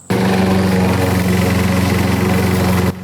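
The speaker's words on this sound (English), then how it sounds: "Simon Verkamp hops on a mower to help people in need" A riding lawn mower engine runs steadily at close range, a loud continuous droning hum with a buzzing rattle that holds constant before cutting off abruptly near the end.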